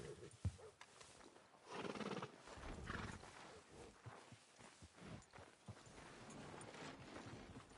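A horse snorts and whinnies, then hooves clop unevenly nearby as it shifts and walks, the sounds fairly quiet and close.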